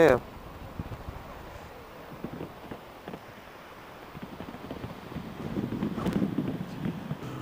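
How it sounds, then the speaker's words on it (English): Gusty wind buffets the microphone during a motorcycle ride, a steady low rumble swelling louder near the end, with people talking over it. "Hella windy."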